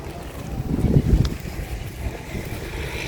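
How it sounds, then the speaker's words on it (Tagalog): Strong wind gusts roar against the microphone outdoors, a rough low rumble that swells to a peak then settles into continuous blustery noise for a few seconds. "Ganun kalakas yung hangin mga idol."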